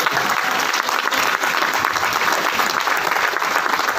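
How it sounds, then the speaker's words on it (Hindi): A seminar audience breaks into loud applause, a dense, sustained wash of many hands clapping at close range for the whole stretch. "एक बार जोरदार तालियां हो जाती हैं।"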